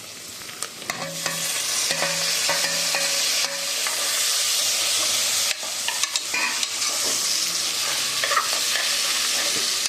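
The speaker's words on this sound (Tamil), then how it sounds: "முருங்கைக்காய் சேர்த்துக்கலாம்." Drumstick pieces stir-fried with onion in a hot pan, a steady sizzle with repeated scraping stirs and spatula knocks, close and fairly loud with no talking.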